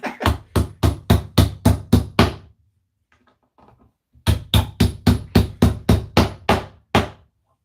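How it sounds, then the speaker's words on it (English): A hammer drives plastic nails into an IKEA ALEX desk in two runs of about eight sharp, evenly spaced blows each, close and loud, with a quiet gap between the runs. "hopefully the head doesn't come off of this hammer"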